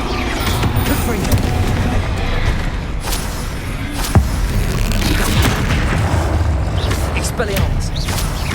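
Booming Confringo fire-blast spell explosions go off in Hogwarts Legacy combat, with sharp impacts over a dense, continuous layer of battle noise and voices.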